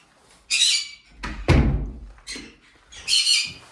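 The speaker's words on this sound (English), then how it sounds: "And then they also have birds, which they're talking to me." Pet birds kept indoors let out loud, close squawks and sharp chirps in several separate bursts, with a dull thump in the middle.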